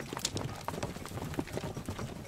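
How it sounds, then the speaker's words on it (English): Horse hooves galloping at speed, a rapid, close clip-clop rhythm of sharp strikes running steadily through the whole moment over a busy background. "Meanwhile, the horse was gaining speed."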